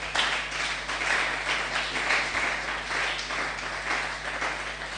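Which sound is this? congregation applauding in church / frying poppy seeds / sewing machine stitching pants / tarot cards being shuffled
congregation applauding in church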